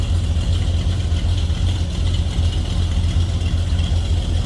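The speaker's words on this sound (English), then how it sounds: "A little rumble coming out of that big block." A 1968 Chevrolet El Camino with a 396 big block V8 and automatic overdrive transmission idles steadily from behind the car, a deep, continuous low rumble with an even loping pulse and no revving.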